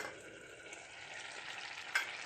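Half a cup of milk with a spoonful of cream comes to a gentle boil in a pot on the stove, giving a steady soft hiss and bubbling with one brief sharper crackle near the end.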